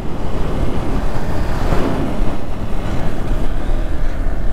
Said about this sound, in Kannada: ಕ್ರಾಸ್ ವಿಂಡ್ಸ್ ಮಾತ್ರ ಹೆವಿ ಉಂಟು ಇಲ್ಲಿ.